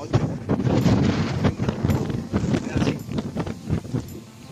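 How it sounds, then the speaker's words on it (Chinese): Strong wind on an island coastal path gusts against the microphone in loud rumbling bursts, with a few footsteps or knocks and a faint voice mixed in. "大风啊"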